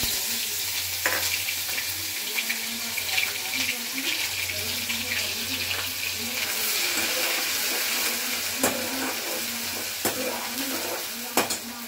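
Chana dal fries in a pan with cumin, dried chili and ginger, a steady close sizzle broken by sharp clinks and scrapes of stirring, with a quiet voice faintly in the background.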